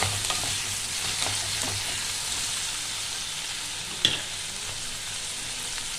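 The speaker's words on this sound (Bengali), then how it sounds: "আলু আর পেঁয়াজ একসঙ্গেই ভাজা ভাজা হবে।" Sliced potatoes and onions crackle steadily in hot oil while a spatula scrapes through them in short strokes, with one sharper clatter near the end and no voices.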